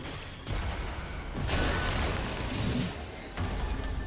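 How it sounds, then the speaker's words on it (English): A powerful explosion in the Metroid Prime 4 video game, a dense roaring blast that swells after about a second and sustains with crackling debris, loud and close, no talking. "Precise targeting of a very powerful explosion would cause a collapse."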